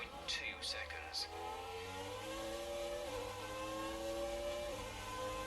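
Engine of a Ferrari 641 Formula 1 car in F1 2019 revs steadily at high pitch, with a racing-car whine holding loud throughout, while brief voice sounds rise over it at the start.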